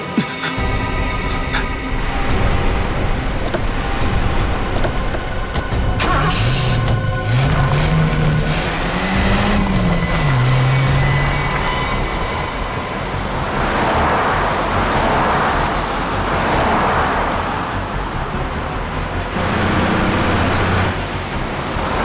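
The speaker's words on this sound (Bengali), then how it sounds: "ও তো গাড়িটা জোরে চালাচ্ছে" A car speeds along a road, its engine and tyre roar forming a loud, steady rush with wind noise, a rising engine whine in the middle, and heavy dramatic music-like tones layered over it.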